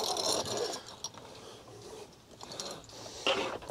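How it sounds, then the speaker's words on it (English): Rope being pulled through a pulley while rigging to slide a Honda Ruckus scooter into an SUV, with close rattling, ratchet-like clicks and squeaks in uneven bursts and no talk. "I'm gonna run it through here and through this pulley"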